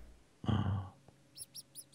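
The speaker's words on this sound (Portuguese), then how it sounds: "Opa, tô escutando passarinho." A bird chirps in Minecraft with the Mo Creatures mod, four quick high tweets in a row following a short burst of other game noise.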